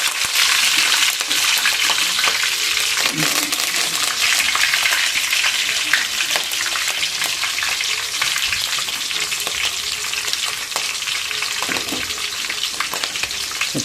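Chopped onions sizzle and crackle loudly in hot oil with curry leaves and green chillies for a country chicken curry, a dense continuous frying hiss with occasional stirring scrapes.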